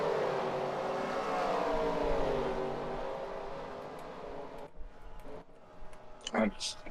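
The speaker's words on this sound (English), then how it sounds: "I just flipped the cameras and there's cars going by at both ends" Race cars from a Watkins Glen sim race roar along in a video game, a sustained engine drone that gradually fades, then brief sharp passes, with people talking over the sound.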